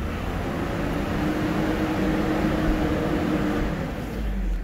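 2020 Land Rover Defender engine running after start: a steady low mechanical hum with a broad, even wash of noise, moderately quiet and unbroken throughout.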